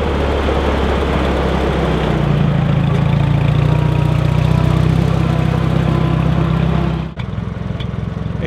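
A tractor engine pulling a modified Holland transplanter on a basil farm runs steadily and loudly, holding a constant mid-pitched drone that cuts off abruptly near the end, with no talking.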